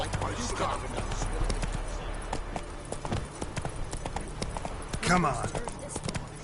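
In The Witcher III, a horse's hooves clip-clop at a brisk steady pace under game dialogue and background sound, with a short spoken line partway through.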